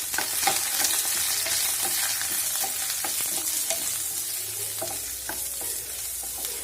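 Chopped onions hiss and crackle in hot oil with curry leaves for a prawn fry, with frequent spatula scrapes and taps against the pan, close and continuous.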